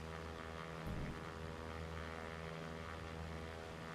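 Simulated airplane engine droning steadily in flight during a banking turn in the flight game X-Plane 11, with a constant low propeller-like hum, moderately loud and unbroken, no voices.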